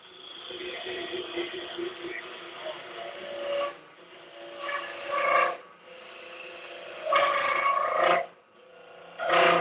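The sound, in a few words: box scraper smoothing rough wood on a lathe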